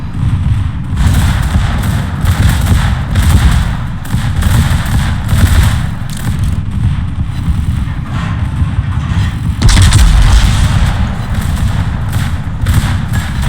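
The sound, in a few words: warship secondary guns firing, from a video game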